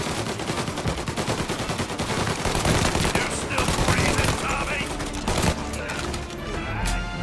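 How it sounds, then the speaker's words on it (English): Rapid, sustained Tommy gun bursts in Mafia: Definitive Edition, loud and close, with a fast rattling rhythm, scattered impacts and crashes, and voices occasionally cutting in over the gunfire. "Tommy Angelo with a Tommy gun."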